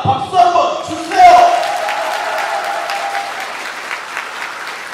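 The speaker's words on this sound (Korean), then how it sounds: "박수 한번 주세요" Wedding guests at a hotel ceremony in Namwon applaud the groom: a full burst of clapping swells after a brief voice, then settles into steady, sustained applause filling the hall.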